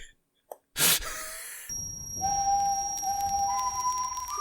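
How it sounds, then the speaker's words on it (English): An ominous whistled motif from Puss in Boots: The Last Wish, a thin sustained tone that slides and holds after a sharp burst and breath-like sounds, with faint ambient film sound beneath. "It is a very effective motif, the whistle."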